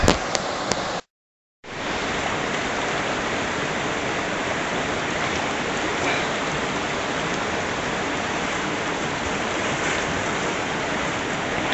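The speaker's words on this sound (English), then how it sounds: "The river's really high." A high river's rushing water roars steadily and loudly throughout, a broad wash of noise briefly dropping out near the start.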